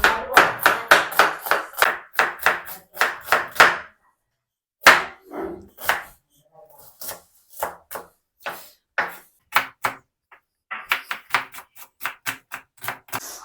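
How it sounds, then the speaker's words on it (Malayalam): Two large onions being chopped with a knife in a Kerala village kitchen, heard as close, crisp, rhythmic runs of chops separated by short pauses, with no talking. "നമ്മളിവിടെ സവാള നന്നായി നുറുക്കിയോണ്ട് നിൽക്കുകയാണ്"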